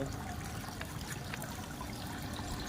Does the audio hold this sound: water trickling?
yes